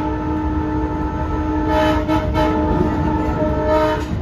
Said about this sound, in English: This train takes the Montauk branch west of Babylon,